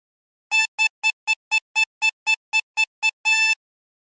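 A chromatic harmonica plays a phrase of a tune as a quick run of about a dozen short, bright reedy notes ending on a longer held one, played alone.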